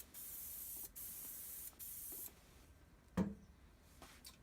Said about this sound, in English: just spray a light mist over the area